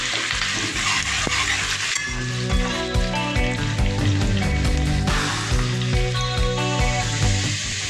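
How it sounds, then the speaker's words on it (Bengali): Onions sizzle steadily in a pan up close, with repeated scraping and stirring strokes over the constant hiss. "এটাকে ভালো করে ভেজে নেব পেঁয়াজটা।"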